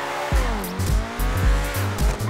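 A car in GTA V Online drives hard, its engine revving up and down through several gear changes while the tires squeal, loud and close with no talking.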